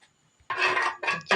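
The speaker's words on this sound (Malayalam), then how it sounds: "ചെറുതായിട്ടൊന്ന് ഇളക്കി കൊടുക്കുകയാണ്." A spoon stirs salted water in a pot on the stove while lemon pickle is being made, producing two bursts of metallic scraping and clinking against the pot, close and clear, with near silence before them.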